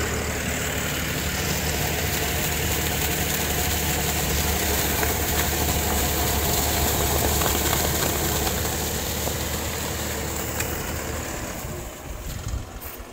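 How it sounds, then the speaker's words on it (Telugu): A 63 hp 5405 tractor runs with a Tusker rotavator attached, its engine a loud, steady low rumble that holds constant and then eases slightly near the end. "ఆ టస్కర్ రోటావేటర్ ఇంప్లిమెంట్ మీకు ఇంజన్ 5405 63 హార్స్ పవర్ స్టాండర్డ్లో రన్ అవుతుంది."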